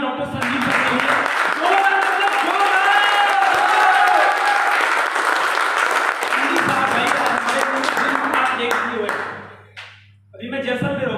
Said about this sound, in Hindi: एक जोरदार तालियां डॉक्टर संजीव सर के लिए